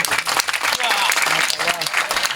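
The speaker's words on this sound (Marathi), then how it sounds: "म्हणून टाळी वाजवली पाहिजे." An audience at a Marathi kirtan claps loudly and steadily in a dense, continuous burst, with voices mixed in beneath the applause.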